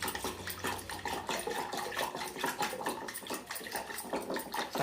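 Water pours steadily into a cooled finger millet and sorghum flour ambil drink, a continuous close splashing gush with no voices.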